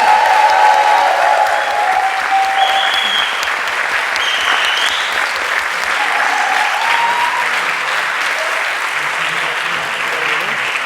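Sustained applause from a meeting audience welcoming a speaker at a French workers' political gathering, dense and steady clapping filling the room throughout with faint crowd murmur and a few scattered voices beneath.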